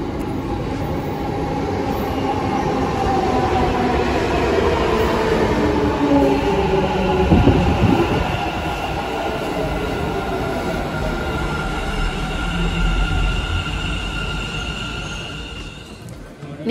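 A metro train ride heard from inside the carriage, with a continuous loud rumble of wheels and motor, rising and falling hum and faint squeals, with no talking.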